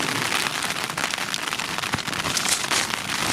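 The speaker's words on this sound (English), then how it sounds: "Pissing down with rain." Heavy rain falls on a beach, a constant close patter and hiss with scattered sharper drop hits and crackles, and no one speaking.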